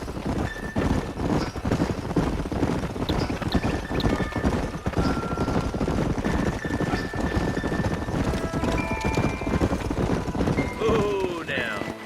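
Horses clip-clop along a canyon trail in Red Dead Redemption, a steady run of hoofbeats from several animals, with a brief whinny near the end.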